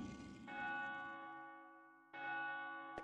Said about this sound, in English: You can hear the bell ringing in the background.